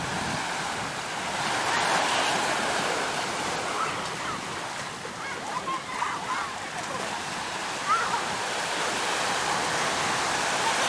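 Sea waves washing onto a shore, a steady broad roar of surf with wind buffeting the microphone, continuous and fairly loud throughout.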